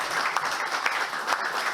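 Applause from a small group of establishment staff honoring a visiting minister at an official gathering, steady dense clapping sustained throughout at moderate level with no speech.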